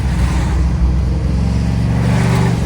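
A 2010 Mustang GT's V8 accelerates hard up a small hill, a loud, steady, close engine drone with a deep rumble and rising pull throughout.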